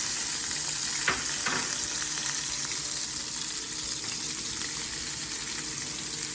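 Garlic and onions fry in hot oil in a saucepan, giving a steady, even sizzle throughout with a couple of brief scraping stirs early on.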